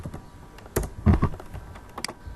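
Keystrokes on a computer keyboard while writing Firebase chat app code, a short close burst of several clacks with a few louder hits, no talking.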